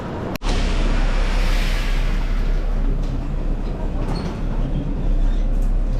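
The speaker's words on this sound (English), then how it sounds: "Metro in Paris." A Paris metro train rumbles steadily at close range with a broad, continuous roar, a sharp clack near the start, and faint crowd noise mixed in.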